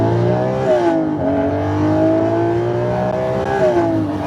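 A Lamborghini Murcielago SV accelerating hard, its engine roaring loud and close with a rising, harmonic-rich note that briefly dips as it shifts and then climbs again.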